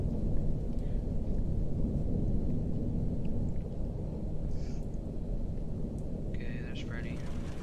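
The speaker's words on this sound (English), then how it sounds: "I think he's there when I hear the rain." Steady heavy rain with a low thunder-like rumble in the horror game TJOC: Story Mode, constant and fairly loud throughout, with a person speaking briefly and faintly over it.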